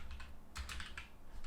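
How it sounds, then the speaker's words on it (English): Keys clatter on a computer keyboard while entering a material name in Houdini 3D software, a quick burst of soft, close clicks with a brief louder cluster in the middle. "hitting the tab key and typing rs material"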